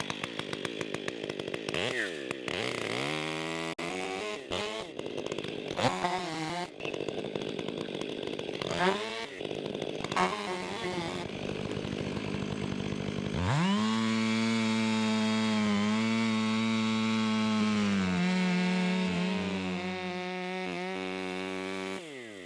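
A chainsaw bites into a leaning tree for the opening cuts, its engine surging and dropping between short bursts, then settling into one long, loud, steady cutting run.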